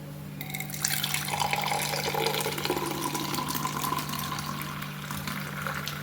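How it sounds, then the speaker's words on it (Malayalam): Homemade moru, a buttermilk, is poured out in a continuous, steady liquid stream lasting several seconds, close and fairly loud, with no voices. "അപ്പോൾ ഗൈസ് നമ്മുടെ മോര് റെഡിയായി. അപ്പോൾ നമുക്ക് ഒഴിക്കാം"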